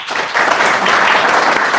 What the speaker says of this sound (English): you're going to vote by your applause